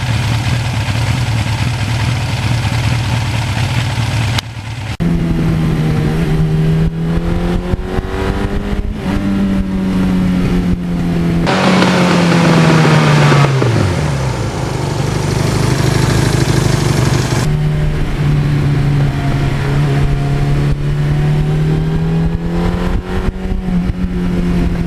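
A 1982 Suzuki GS1100E motorcycle engine running outdoors, idling with several revs rising and falling, loud and close, with a brief cut in the sound near the start.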